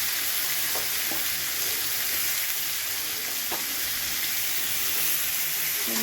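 Chopped tomatoes drop into oily spice paste for egg curry, setting off a steady, close sizzle that fills the whole stretch, with a few faint stirring clicks over the hiss.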